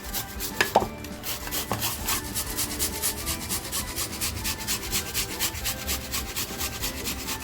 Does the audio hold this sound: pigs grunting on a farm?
no